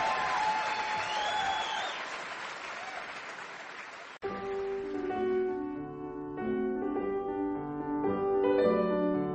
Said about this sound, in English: the audience began to clap and cheer again